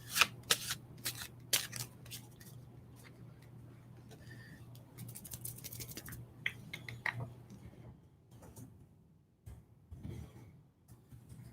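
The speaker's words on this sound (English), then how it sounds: "While I shuffle these cards." Tarot cards being shuffled by hand, a run of crisp riffling and flicking bursts close up, broken by short pauses, over a low steady hum in a quiet room.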